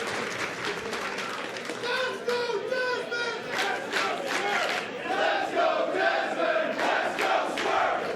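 A wrestling crowd chants and claps in a rhythmic, rising swell of many voices. The sound is dense and carries a stadium-like echo, building steadily louder across the stretch.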